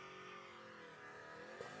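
A Ford F-150 pickup with equal length headers revs its engine, a steady mid-distance exhaust drone holding through with a slight swell near the end, no voices over it.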